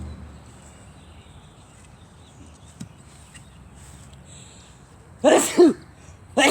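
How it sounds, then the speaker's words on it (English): After a quiet stretch, two sharp sneezes burst out close by in quick succession, followed by another loud vocal burst. "I hate sneezing."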